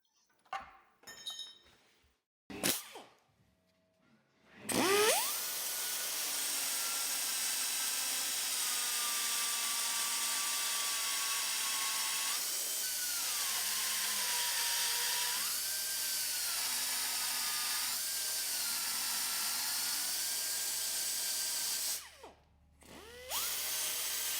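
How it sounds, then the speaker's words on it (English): A die grinder cleans up jagged cut holes in a steel rear bumper for an XJ Cherokee, giving a high, sustained whine that rises and dips as the bit bites, after a few short clanks and clinks. "the jagged misshapen holes were then cleaned up with a die grinder"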